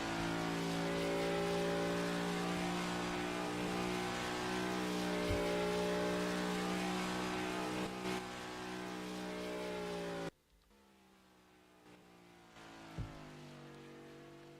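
An onboard race car engine on a qualifying lap at the Long Beach street circuit in California holds a loud, steady high-pitched drone, shifts pitch a few times, then drops abruptly to a quieter tone near the end.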